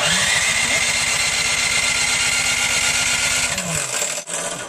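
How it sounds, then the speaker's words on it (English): A snow blower engine is cranked and sputters with a rapid, buzzing mechanical rhythm that holds steady for a few seconds, then winds down and stops, loud and close outdoors during a 2013 blizzard in Bangor, Maine. "we're getting the snow blower primed to go right now"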